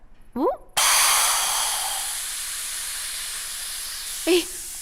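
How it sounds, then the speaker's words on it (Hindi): A pressure cooker whistle: a loud, sustained steam hiss bursts out and holds steadily for several seconds, with brief voices before and near the end. "कुकर की सीटी बज गई"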